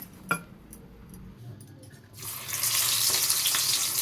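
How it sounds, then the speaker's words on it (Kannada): A few faint taps and clinks, then water starts pouring steadily, splashing and hissing continuously until the end, as it is added to pakoda dough with hot oil. "ಇದನ್ನು ನೀರು ಹಾಕಿ ಸ್ವಲ್ಪ ನೀರು ಹಾಕಿ ಕಲಿಸ್ಕೊತೀನಿ"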